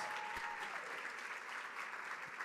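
Audience applause fills a hall at a charity gala auction after a $10,000 bid, a steady wash of many hands clapping at moderate distance, with no voices breaking through.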